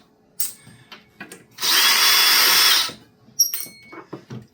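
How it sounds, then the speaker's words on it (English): A power driver backs screws out of a Mackie 1202-VLZ Pro mixer: one loud, steady whirring burst of over a second, close by, framed by quieter clicks and handling noises. "you have to be real careful that you don't set the torque on your driver too high, or you will strip those screws"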